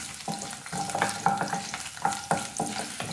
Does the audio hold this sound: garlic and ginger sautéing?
yes